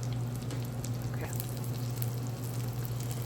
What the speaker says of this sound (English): the whole purpose of pan frying it is just to get a little crispy on it